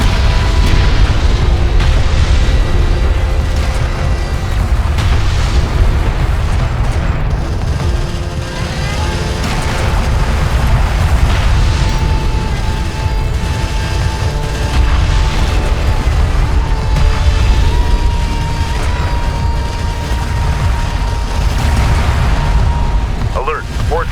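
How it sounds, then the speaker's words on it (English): Weapons fire hits an armored vehicle in the strategy game Homeworld: Deserts of Kharak: continuous loud booms and rumbling impacts layered with tonal game sounds, with clipped radio alert voices speaking over the battle. "Armored vehicle is taking fire."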